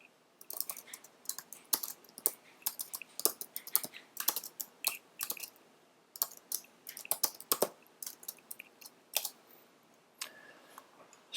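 Fast, irregular keystrokes on a computer keyboard as Python code is typed, crisp clicks in bursts with short pauses, close and clear with no talking.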